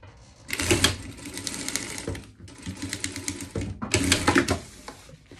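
A sewing machine stitches a pet life vest in three rapid bursts separated by short pauses, the needle chattering close and clear.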